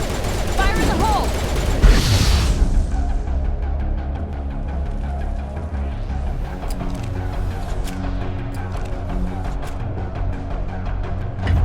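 A grenade blast in the Mass Effect video game, a loud boom near the start, followed by sustained rattling gunfire and combat noise that continues steadily throughout.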